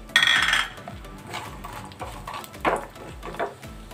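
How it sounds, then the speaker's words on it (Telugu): Mustard seeds and cumin dropped into a hot pan for tempering, with a clatter of utensil against metal at the start followed by light crackling and scattered clinks, close and moderately loud. "ఆవాలు జీలకర్ర కూడా వేస్తున్నాను."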